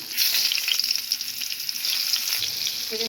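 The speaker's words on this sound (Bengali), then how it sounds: "বেগুনের এক পিঠ যখন ভাজা হয়ে যাবে তখন আমি অন্য পিঠ এগুলো উল্টিয়ে দিব।" Eggplant frying in oil gives a loud, continuous close-up sizzle with crackling spatter that holds steady throughout and stops abruptly at the end.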